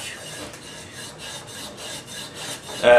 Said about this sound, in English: Just go on, put it down, and really just grind on it